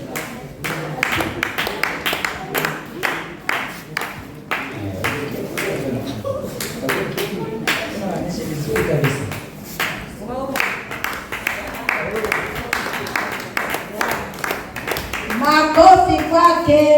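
An audience at a youth gift-exchange evening in Tegeta claps in scattered, uneven bursts for Winifrida Kamande, close and lively throughout, with voices talking over the applause.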